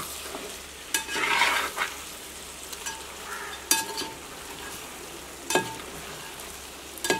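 Cooked plantain being stirred in a pan in a Kerala village home kitchen, with a steady frying sizzle and a few sharp scrapes and knocks of the spoon against the pan.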